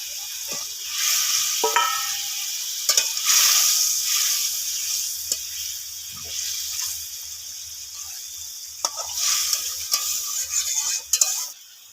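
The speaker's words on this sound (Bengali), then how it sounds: "ঝোল ভালো হয়ে ফুটে গেছে, মাছগুলো দিয়ে দেবো।" Pangas fish simmering in a bubbling oil-and-chili gravy, a steady close hiss of boiling liquid broken by a few sharp clinks and stirring knocks throughout.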